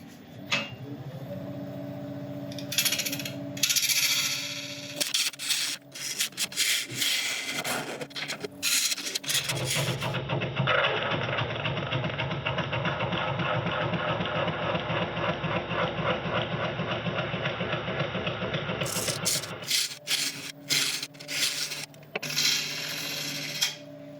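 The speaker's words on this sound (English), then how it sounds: "we're going to start turning at about 940 RPM" A wood lathe spins a jarrah burl and resin bowl blank at about 940 RPM while a gouge cuts the outside curve, giving a steady, loud scraping rasp with a machine hum that runs unbroken through the middle, framed by shorter intermittent cuts.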